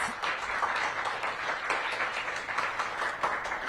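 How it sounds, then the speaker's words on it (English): An audience at an outdoor ribbon cutting for a medical health clinic breaks into sustained applause, a dense, even wash of clapping from a crowd with no break. "Give them a big round of applause."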